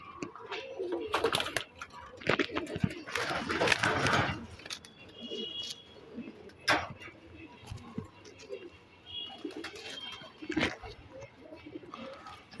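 Fancy pigeons, Tambay and Tambray breeds kept by a pigeon fancier, coo softly in a loft among scattered rustling and wing noises, with quiet voices nearby.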